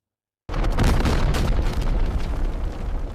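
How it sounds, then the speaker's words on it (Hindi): A loud explosion blast bursts in abruptly after a brief silence, then a sustained roaring rumble of debris and smoke that slowly tapers without fading out. "कुछ ही सेकंड में एक तेज धमाका हुआ"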